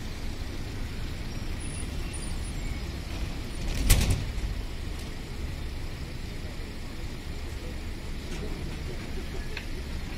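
City tram doors slide open with a single brief clunk and rush partway through, set against a constant low rumble of the tram interior.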